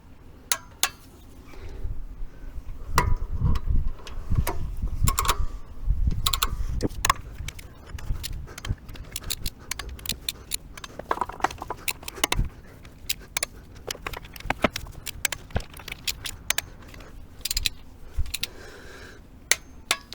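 Ratchet wrench clicking and metallic clinks while cylinder head bolts are torqued down on a VW T3 TDi engine at a roadside repair, close and repetitive, with irregular bursts of ratcheting and tool contact and no speech.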